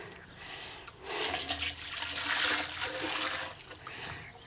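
Boiling water poured over dairy utensils in a Tudor farm dairy, a loud rushing splash close by that swells for a few seconds and then eases off, with no talking.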